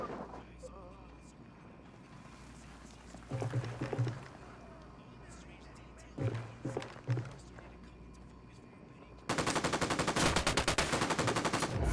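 Gunfire in the video game Tom Clancy's Ghost Recon Wildlands: two short rattling bursts, then a sustained stretch of rapid automatic fire at the end, with voices and background noise in between.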